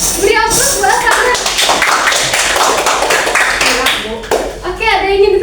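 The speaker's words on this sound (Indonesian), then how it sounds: "beri aplaus buat Hatsana" Junior high students in a maths classroom give a classmate a round of applause. Dense, continuous clapping fills the room, with children talking and calling out over it.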